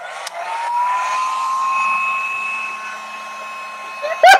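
A hair dryer blows bronze watercolor pigment across paper, its whining motor holding steady and close for several seconds before ending in a brief louder click.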